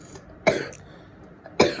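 A person coughs twice in short, sharp bursts about a second apart, close and fairly loud over quiet room noise.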